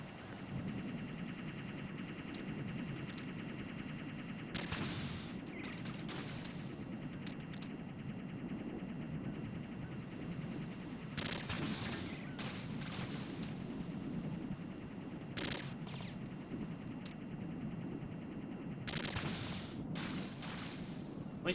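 Suppressed gunfire in a video game: scattered muffled bursts, some in short clusters, rise over a steady roar of background game noise, with no voices.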